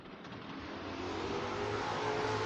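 Mopar Dodge Coronet door-class drag car with a 727 three-speed automatic launching down the drag strip, its engine roaring and rising steadily in pitch and loudness over a couple of seconds.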